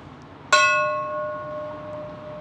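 One strike of a smaller church bell, one of the original five bells in the Holy Trinity Cathedral bell tower, San Francisco, bright and close, with a ringing tone that decays gradually afterward.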